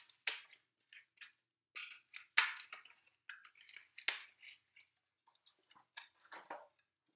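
Scissors snipping through a styrofoam egg carton in short, separate crisp cuts with small creaks and squeaks, close and fairly quiet, spaced irregularly with brief pauses between them.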